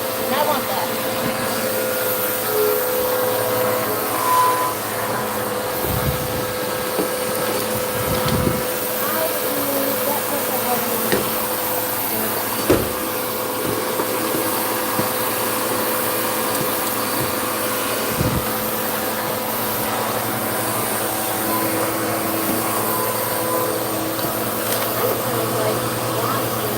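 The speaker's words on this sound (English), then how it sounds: "while I vacuum" A vacuum cleaner drones steadily throughout a room being cleaned on moving day, a continuous loud whir with occasional knocks and bumps as it is pushed around.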